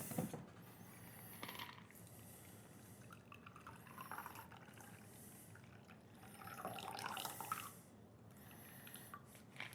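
A Bourbon Bee cocktail, a bourbon twist on the Bee's Knees, poured from a shaker into a chilled coupe glass, a soft, steady liquid splash and trickle close by that swells a couple of times, with no talking.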